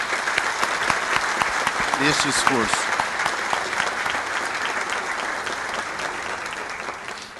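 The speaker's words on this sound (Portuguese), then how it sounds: "pedir uma salva de palmas para todos esses colegas que participam" Audience applause fills a Brazilian labor court ceremony on combating rural child labor, a dense steady clapping across the whole stretch while someone briefly speaks over it near the start.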